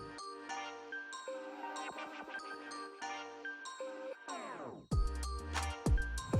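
Call of Duty game audio heard through wireless earbuds, with tinkling chimes and tonal menu-like tones, a descending swoosh, then louder low booming impacts near the end, with no talk.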